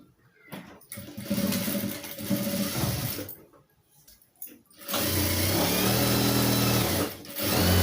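Sewing machine stitching a folded edge of a saree pallu, running in loud bursts with brief pauses, then a long steady run near the end; no talking.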